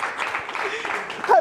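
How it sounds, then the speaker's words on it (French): Short burst of audience applause for a contestant at a fun end-of-season game event with Carnegie Mellon students, dense and steady, with voices mixed in and a brief vocal sound near the end. "J'aimerais qu'on applaudisse pour Yvan."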